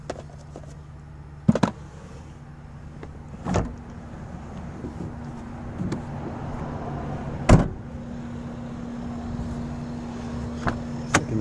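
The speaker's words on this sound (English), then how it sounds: "Checking the doors." Doors of a 2006 Volvo V70R are opened and shut during an inspection, with several sharp clunks and latch clicks spaced seconds apart over a quiet steady hum.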